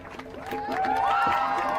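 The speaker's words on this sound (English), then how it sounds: "Can I get a cheer for the Legal Observer?" A rally crowd at a DC collective safety event cheers together, a steady wash of voices and whoops rising over under two seconds, with some clapping mixed in.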